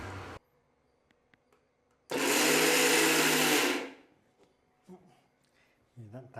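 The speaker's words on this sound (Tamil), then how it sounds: "இப்போ நாம் வந்து இதை மிக்சியில் போட்டுக்கலாம்." A kitchen mixer grinder blends roasted gram with milk in one loud steady burst of about two seconds, whirring up and then spinning down, with quiet handling noises and brief voices before and after.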